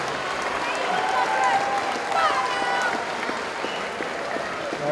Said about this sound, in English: some serious noise and a big round of applause for both these warriors inside the cage